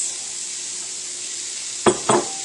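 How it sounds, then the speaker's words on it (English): Onions drop into hot olive oil for vegetarian chili with two short, close hissing splats over a steady sizzling background, and no talking. "Now that the oil's heated up, I'm going to add the onions"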